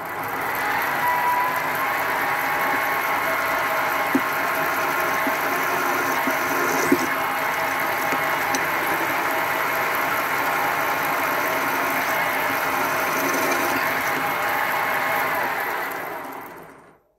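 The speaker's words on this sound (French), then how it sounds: "Donc premier essai, facile, un bout d'acier de construction doux, avec un forêt court" A milling machine drills into a piece of mild construction steel with a short drill bit, giving a steady, continuous mechanical hum and whine that holds at even loudness for about sixteen seconds before cutting off, with no talking.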